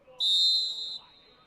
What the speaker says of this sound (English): Whistles sound, stopping play.